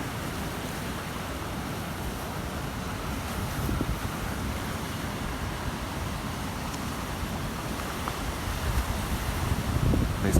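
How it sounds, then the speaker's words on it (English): Strong wind roars across the microphone alongside crashing surf by a jetty during a winter storm in Western Australia, a dense, continuous rush of noise with no one talking. "It's very, very windy as well."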